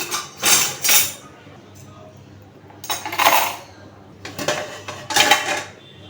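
Washed plates, pots and pans are set down one after another in a home kitchen to dry, giving several separate metallic clinks and clatters with quiet pauses between them and no talk over them.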